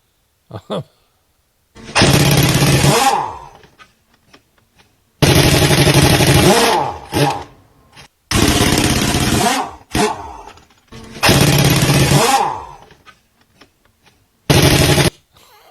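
A pneumatic torque wrench fires in loud, harsh rattling bursts of a few seconds each, separated by short silences and a few sharp clacks.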